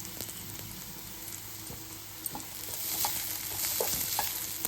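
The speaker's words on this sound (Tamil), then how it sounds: "நல்லா பச்சை வாசனை போகிற அளவுக்கு வந்து வதக்கி விட்டுருங்க." Onion sautéing in a pan with ground coconut, green chili, cumin and garlic masala, a soft continuous sizzle with occasional stirring scrapes and taps, gently building in intensity.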